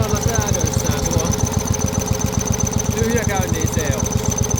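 A Partner Caravan 12-100E riding lawn mower's small engine idles steadily after an idle-mixture adjustment, with a fast, even putter close by and someone talking over it.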